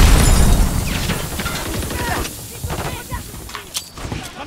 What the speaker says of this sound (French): Frag lancé.